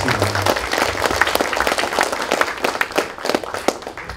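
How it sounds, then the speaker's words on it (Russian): Audience applause at a school lesson event, steady dense clapping from a crowd filling the room, sustained and fairly loud throughout without speech. "Давайте мы похлопаем."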